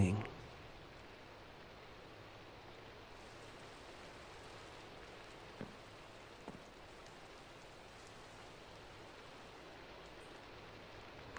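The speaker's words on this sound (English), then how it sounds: "Hey, do you hear that? It's raining." Rain falling in the video game Minecraft: a soft, even hiss of steady rainfall that stays faint throughout, with a couple of tiny taps and no talking.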